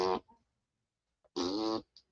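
A voice imitates fart noises, two wet, buzzing blurts close to the mic, the first short and the second longer, with brief sputters after each and a pause between.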